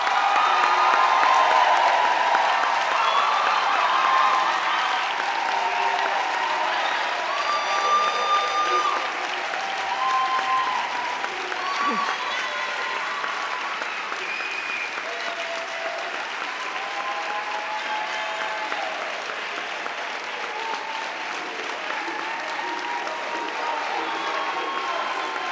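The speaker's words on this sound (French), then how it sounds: "Applaudissons chaleureusement toutes les nouvelles personnes diplômées des baccalauréats de la Faculté de communication." Warm, sustained applause for new bachelor's graduates of a Faculty of Communication at a 2022 graduation ceremony, a large crowd clapping steadily for about twenty-five seconds with occasional faint cheers, gradually softening.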